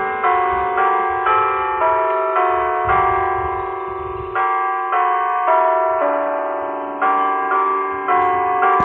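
Electronic imitation of the Westminster chime rings out as bells strike noon, with steady sustained tones in a repeating melodic pattern for nearly nine seconds, loud and clear with no talking.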